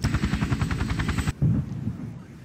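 Cobra attack helicopters sent in during a Cold War 1955 mod of the strategy game People's General, heard as a rapid, pulsing rotor chop that cuts off abruptly, followed by a brief low rumble.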